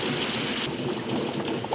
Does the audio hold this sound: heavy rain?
yes